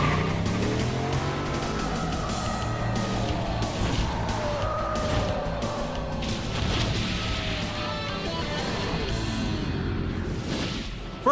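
A 2008 Ford Mustang Bullitt with modified suspension is driven hard around Georgia's Roebling Road Raceway, its engine roaring continuously with rising and falling revs and faint tire noise, loud and close throughout.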